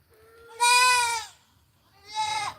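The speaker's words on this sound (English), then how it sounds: "And those are little goats." Two loud, close bleats from small goats, a long wavering cry followed after a pause by a shorter one, with faint low rustling in between.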